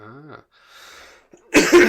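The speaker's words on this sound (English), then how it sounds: "sorry for the cough" A single harsh, explosive cough near the end, loud and close, after a brief vocal sound and a quiet breathy pause.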